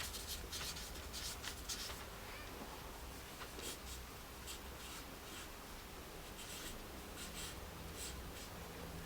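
A pencil scratches across paper while drawing a sleeve pattern, with quick strokes in bursts early on, then steadier rubbing lines, close and fairly quiet.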